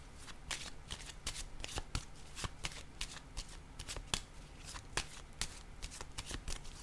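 Playing cards are handled and laid down one after another, making a string of soft, sharp flicks and slaps at an uneven rhythm against a quiet room.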